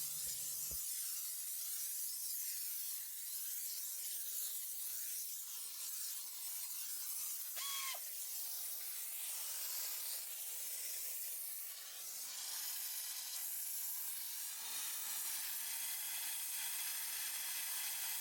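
Steady hissing of a steamer delivering smoke-removal chemicals into a car cabin, continuous and fairly close, with slight changes in texture and no talking.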